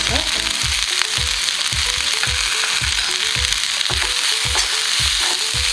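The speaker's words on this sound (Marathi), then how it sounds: "छान परतून घेऊ आपल्या भेंडीची भाजी तयार होती आहे" Okra sautés in ghee, giving a loud, continuous sizzle and frying hiss. Regular scraping stir strokes sound close by, with no talking.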